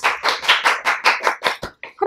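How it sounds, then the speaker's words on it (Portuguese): Studio audience applause greeting the world's smallest couple on a Brazilian talk show: a quick run of about eight rhythmic, unison claps, then a brief pause and a few scattered final claps. "palmas."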